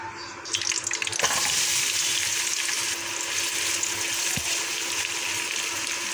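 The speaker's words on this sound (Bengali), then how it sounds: "পেঁয়াজটা বাদামি কালার করে ভেজে নেব" Onions frying in hot oil with bay leaf, cardamom and cinnamon give a loud, steady sizzle that runs throughout, with occasional stirring scrapes and no talking.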